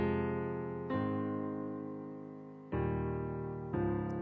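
Solo piano plays the verse chords of a song, sustained chords struck one after another with long ringing decays, close and clear without any voice.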